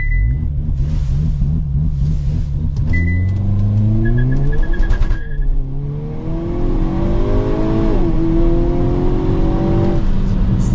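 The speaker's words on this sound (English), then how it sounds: "hit active for the launch control, and then just hold the brake and gas" A 2023 Hyundai Kona N engine revs hard under launch control and climbs through several gears in rapid, rising sweeps, loud and close, with a brief dip between shifts.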